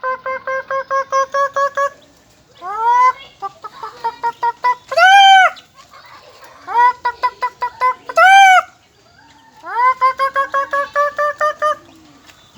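A person imitates a hen clucking, voicing close, loud bursts of rapid, rhythmic clucks with short silent gaps, mixed with a few longer rising squawks.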